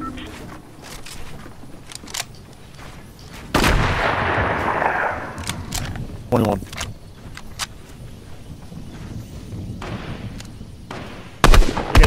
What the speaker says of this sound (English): this AUG is a 2-round burst